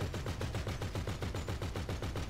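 Steady rapid automatic gunfire in an online shooter game, a dense, even burst of repeated shots that keeps going at constant loudness without pause.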